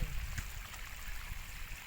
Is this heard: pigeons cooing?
no